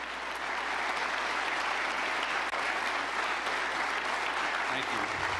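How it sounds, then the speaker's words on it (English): A large audience at a Marco Rubio speech in Munich gives steady, sustained applause, a dense, even wash of many hands clapping at moderate distance with no break. "if you don't mind just showing the applause at the beginning"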